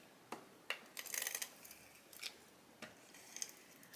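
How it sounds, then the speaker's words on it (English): Adhesive tape strips being pulled and pressed onto a handmade card, giving quiet close-up crackling rips and short sticky taps in an irregular sequence. "Let's tape it down quickly."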